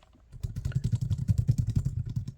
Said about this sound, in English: I can type on it easily